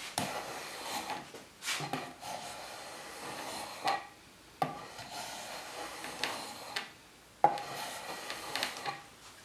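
A Hock shoulder plane taking thick shavings from wood: a quiet series of rasping strokes, each a short scrape, with pauses and light knocks in between, close and without talk.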